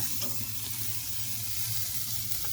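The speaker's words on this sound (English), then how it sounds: "just a few seconds on each side. Burn the fat a little bit, and we're talking right on top of the fire" Steak fat sears directly over the fire of an offset smoker, giving a steady, close, dense hiss that holds evenly throughout with no voices.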